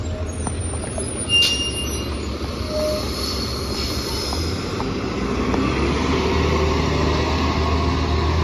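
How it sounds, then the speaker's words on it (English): A commuter train arrives at Merritt 7 station in Norwalk, Connecticut with a steady, building rumble of wheels on rails, faint squeals and brake hiss, growing louder as it nears. "Here comes our first train."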